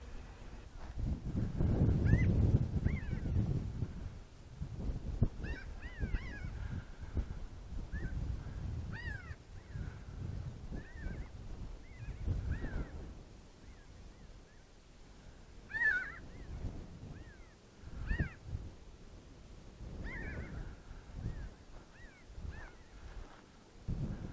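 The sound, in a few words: flock of chattering birds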